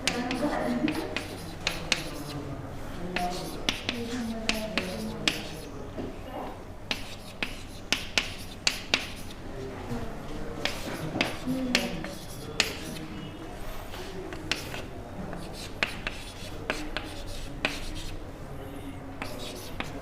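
A pen writes allele combinations by hand, with close, scratchy strokes and sharp taps repeating irregularly throughout under faint background murmur.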